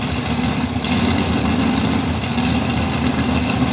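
The engine of a Chevy II drag racing car at a drag strip rumbles steadily and loudly at a low, throbbing idle.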